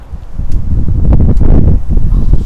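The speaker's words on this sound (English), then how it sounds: "The wind's picking up." Gusty wind blows outdoors, buffeting the microphone in a loud, continuous low rumble with faint rustling above it.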